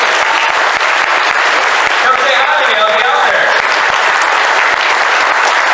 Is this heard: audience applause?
yes